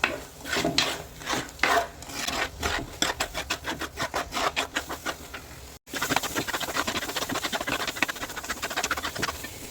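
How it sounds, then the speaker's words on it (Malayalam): A spatula stirs and scrapes onion and tomato masala for a chicken curry in a pan. The rhythmic strokes repeat close by, with a brief gap and then faster scraping. No one talks. "ചട്ടകം വിടാതെ തന്നെ ഇളക്കി കൊടുക്കണം"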